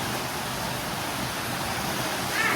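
Rain falls steadily as a dense, even hiss, close and fairly loud, with a faint chirp just before the end.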